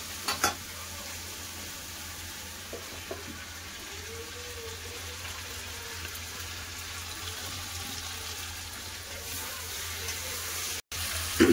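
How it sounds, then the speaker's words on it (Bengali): Meat curry with potatoes stirred in a pan, soft sizzling from the frying under faint scraping and a few light knocks, steady and close, ending with a brief clatter. "ঢাকাটা একবার খুলে চালিয়ে দিলে, লেড়ে দিলাম।"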